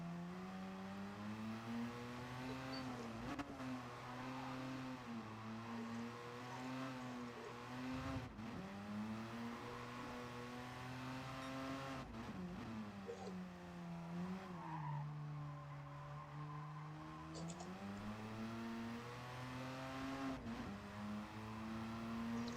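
A race car in a racing video game drifts with its rear end stepping out, the engine revving and falling in pitch while tires squeal and skid repeatedly, loud and continuous with no talk.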